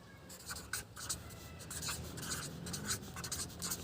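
Someone writes on a board in short, separate scratchy strokes, close and fairly quiet, repeating in quick bursts for a few seconds.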